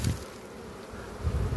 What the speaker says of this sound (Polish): Pszczoły obładowane żółtym pyłkiem.